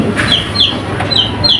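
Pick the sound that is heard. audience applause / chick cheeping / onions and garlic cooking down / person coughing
chick cheeping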